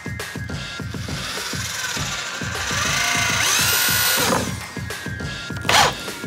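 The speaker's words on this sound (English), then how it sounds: "Whew, sanding is exhausting." A power sander whirs and buzzes steadily against wood, its pitch rising and falling as it works on a garden planter, with a brief louder scrape near the end.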